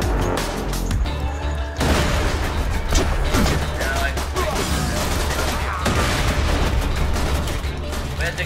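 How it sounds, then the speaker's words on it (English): Grenade blast and bursts of gunfire in the shooter game Borderlands 2, a sharp loud boom followed by dense, sustained crackling shots and crashes filling the whole stretch. "Just throw a grenade."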